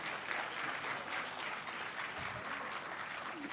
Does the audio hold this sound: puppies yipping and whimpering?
no